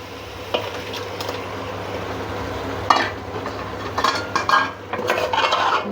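Mutton bone marrow gravy stirred in a pan with a utensil, steady low sizzle under intermittent scraping and clinking strokes that grow busier in the second half, close by.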